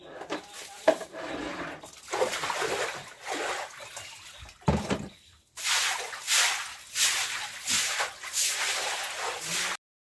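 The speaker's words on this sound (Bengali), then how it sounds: "তো এখন হচ্ছে আমি কাপড় চোপড়গুলোকে একটু ভিজিয়ে নিব" Clothes being soaked and sloshed in water at a village tube well, with repeated splashes and trickling pours arriving in uneven bursts and some louder, denser stretches of water noise in the second half.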